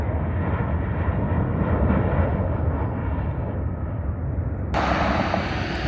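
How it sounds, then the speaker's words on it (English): A Southwest Airlines jet coming in to land near Las Vegas Boulevard South, a loud continuous engine roar heard from outdoors with road noise mixed in and a sharp broadband rise in the final second. "There's a jet coming in for a landing. Southwest Airlines."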